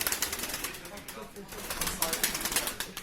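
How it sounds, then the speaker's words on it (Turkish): Pigeons flutter and shuffle nearby at a pigeon auction in Eskişehir, Turkey, wings flapping in quick bursts with soft coos mixed in, while people talk over them. "antrenmanlı kuşlar getirmiş bugün Mehmet abi."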